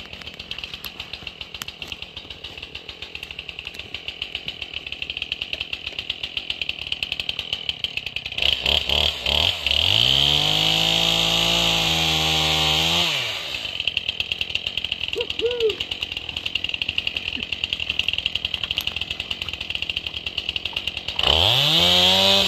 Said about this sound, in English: His Hot Rod 271 with the brand new 24-inch Stihl lightweight bar, skip tooth chain.